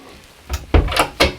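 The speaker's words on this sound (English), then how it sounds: "You have an additional cabinet, a huge one, and like all the other ones, the light turns on when you open it." A large cabinet door is opened aboard a Faurby 360 deck saloon sailboat, giving a few short wooden knocks and clunks close by, with a quiet pause before and no talking.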